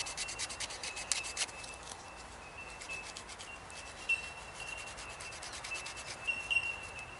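A Mora Pro S knife scrapes shavings from wood in the woods to build a fire pile, giving faint, steady rasping strokes with a few sharper scrapes, close by and without talk.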